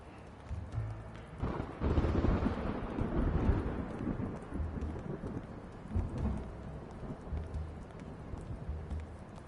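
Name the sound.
rain falling in Blacksad Under the Skin video game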